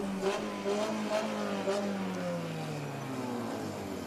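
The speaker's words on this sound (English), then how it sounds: "You can hear some of the drivers giving celebratory revs of their engine" Race car engines rev and whine in the distance at the tight Grand Prix de Trois-Rivieres street circuit, pitch sliding down as cars pass, with a few sharp celebratory throttle blips over the drone.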